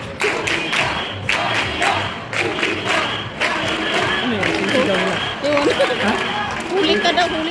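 A crowd on a busy street in central Madrid, Spain, cheers and claps loudly and continuously, with rhythmic bursts of claps and shouting voices carrying throughout.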